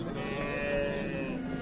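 Cattle low at a livestock market, a sustained moo rising out of a busy background of animal noise and murmuring, moderately close but fairly quiet.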